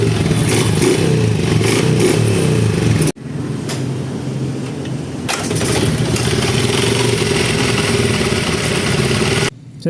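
A Honda CB 125 motorcycle engine with an electrical fault runs loudly up close, idling roughly with bursts of revving, cutting out abruptly partway, then running again before stopping.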